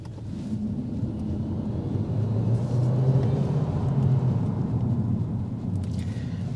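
Steady low rumble from inside a Geely Galaxy L6 hybrid sedan of 307 horsepower as it accelerates, the engine and road drone swelling slightly then holding, with no talk over it.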